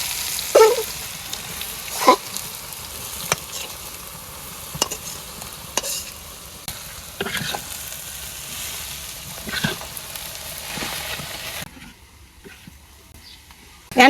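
Greens dropped into a hot spiced-oil tempering in a pan, a continuous crackling fry broken by repeated stirring scrapes and clatters, fading quieter near the end with a faint voice at times.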